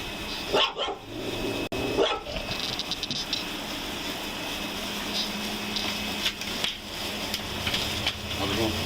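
A dog barks from behind a door during a neighbor dispute over trash placement, several sharp barks early on followed by scattered ones, under a voice and surrounding rustling.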